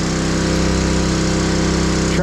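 A yellow-painted Detroit 60 series diesel engine in a farm tractor runs at a loud, steady idle, a continuous close throbbing rumble with no voices.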